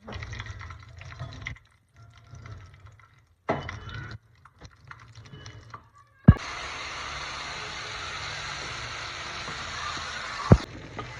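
Spice paste dropped into hot oil for a restaurant-style ivy gourd curry, bursting into a loud, steady sizzle after a sharp clatter, preceded by quieter scraping and stirring noises with pauses between them.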